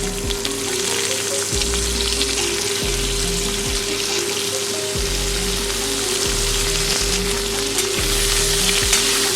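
Finely chopped onion with split green chillies and a dried red chilli fries in hot oil, a steady loud sizzle running throughout with a hum in the background.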